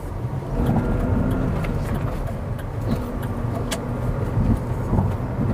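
A BMW E39 engine drones steadily from inside the car under full throttle, a low continuous rumble with road noise and small clicks.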